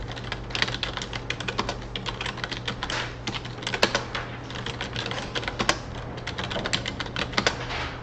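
Fingers tap quickly on a computer keyboard, a close, continuous patter of keystrokes with a few louder clicks from the enter key over a low background hum.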